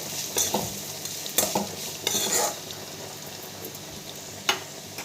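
Onions and curry leaves fry in a pan with a steady, moderate sizzle, punctuated by several sharp scrapes and clinks of a spoon stirring against the metal, heard close with no speech.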